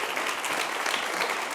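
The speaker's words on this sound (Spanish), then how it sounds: "Un aplauso para él." Clapping greets a chef at a panel debate on hospitality sustainability, with an even, continuous round of audience applause and no voices.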